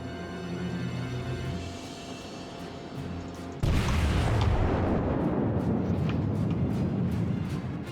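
Naval gunfire and shell impacts in World of Warships: a steady low rumble of distant booms under music, then a sudden loud blast near the middle that gives way to a dense, continuing roar of explosions and crackling hits.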